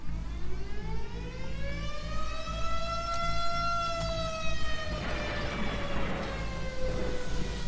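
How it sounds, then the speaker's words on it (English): Tornado warning sirens sound across a town as a tornado brushes its north edge, one long wailing tone slowly rising and falling, steady and fairly loud over a constant rumble of wind and noise. "only now that it is brushing the north edge and destroying homes that the local tornado sirens sound"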